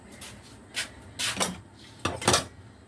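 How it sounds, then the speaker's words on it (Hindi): Dishes being washed with Surf detergent powder: pots, plates and utensils clatter and scrape in several short, loud bursts, with brief pauses between the handling sounds. "सरफ के साथ ही हम कर लेते हैं आज बर्तन वॉश"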